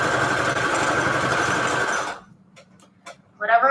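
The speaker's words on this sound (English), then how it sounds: "I'm just sewing a line down the middle, going to the side, and like that" A sewing machine stitches a line down paper strips, its steady close whir running about two seconds before stopping abruptly, followed by a few faint clicks and a voice.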